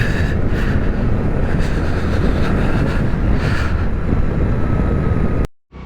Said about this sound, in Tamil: காற்று வீசுகிறது.